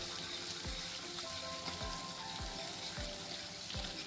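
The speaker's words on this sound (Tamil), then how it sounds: "4 டேபிள் ஸ்பூன் நெய் ஊற்றி கடுகு, கருவேப்பிலை, வெந்தயம் இதெல்லாம் போட்டு தாளித்ததுக்கப்புறம் பொடியாக நறுக்கின சின்ன வெங்காயம் போட்டு வதக்கணும்" Chopped shallots sizzling and frying in ghee with mustard seeds, curry leaves and fenugreek, a steady close hiss with a few sharp low knocks of stirring, no voices.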